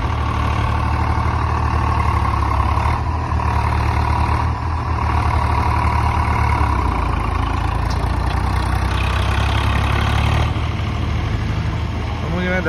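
A tractor engine running hard under full load during a test, a steady loud low drone with a dense rumble throughout, and voices faintly present beneath it.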